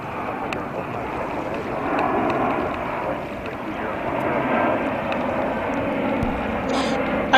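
A JetBlue Airways jet arriving at JFK airport in New York rumbles steadily as a broad, continuous roar that builds slightly over several seconds, with wind buffeting the microphone throughout.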